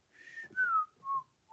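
A person whistles a simple tune alone: a few clear sustained notes that glide slightly downward, with short gaps between phrases, close and fairly loud.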